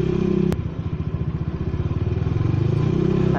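A motorcycle engine runs steadily during a brake test on a road, a KTC two-piston caliper paired with an unbranded brake master cylinder, as another vehicle passes from behind, with a sharp thump near the start and a pulsing low engine rumble throughout.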